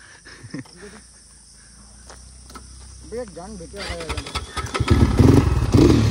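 A scooter engine revs and strains on a rocky offroad trail, growing louder and rougher toward the end as it pushes closer. People talk over it at the start.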